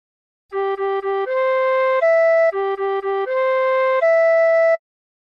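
Tin whistle playing a phrase of La Cucaracha: quick repeated short notes followed by longer held ones, the pattern played twice, bright, clear and close with no talking.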